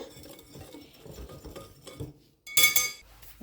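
Vanilla cake batter being mixed in a bowl: scattered scraping and stirring taps, then a brief loud clinking of a utensil against the bowl near the end, close and without talking.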